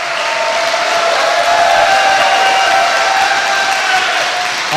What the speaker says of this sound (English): a big round of applause for all our judges